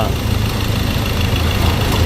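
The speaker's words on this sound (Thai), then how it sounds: "เสียงเครื่องยนต์เงียบกริบนะครับ" A steady low engine hum idles continuously with no revving, fairly loud and close, and no other sounds.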